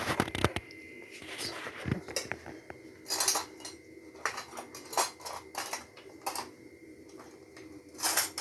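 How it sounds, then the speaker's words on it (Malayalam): A metal pot set on a home kitchen stove to reheat curry, heard as scattered clinks, scrapes and clatters of cookware, close by and irregular. "അടുപ്പിൽ പാത്രം വെച്ച്"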